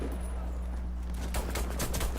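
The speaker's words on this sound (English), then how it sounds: "I was just testing out the pistol there" Pistol shots in the video game Warface, a short burst of several quick cracks late in a brief stretch over a low steady background hum.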